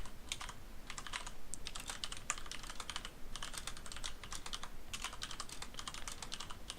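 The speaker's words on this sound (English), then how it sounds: "Oh god, the typing." Rapid computer keyboard typing in bursts of clacking keystrokes with short pauses, fairly close but low in level, recorded during a Minecraft multiplayer session.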